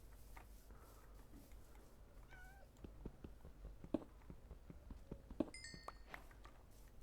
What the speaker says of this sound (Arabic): بس كنت سامع صوت قطة والله.